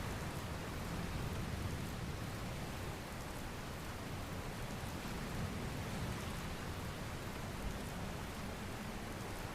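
Steady, dense rain hiss from the video game Dragon Quest Builders 2 runs evenly and unbroken throughout, with no voices.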